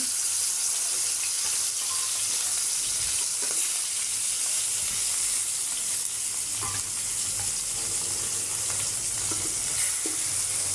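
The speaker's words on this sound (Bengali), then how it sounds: "গরম হয়ে গেছে এবারে এক করে মাছ দিয়ে দেবো" Pieces of koral fish, a fresh sea bass, sizzle steadily in hot oil with a bright, continuous hiss and occasional pops and crackles, close and fairly loud, with no voices.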